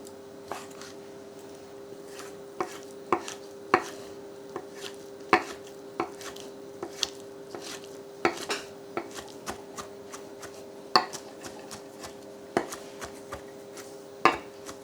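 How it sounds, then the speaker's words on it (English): Sliced shiitake mushroom caps finely chopped on a board with a knife, a close, steady series of crisp irregular knife taps over a quiet background, no talking. "thinly slice each cap, then finely chop"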